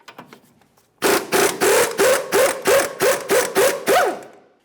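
A 21mm wrench loosening the jam nut on an inner tie rod of a Ford Ranger, about nine rapid, even ratcheting strokes close up and loud after a quiet start, with no talk.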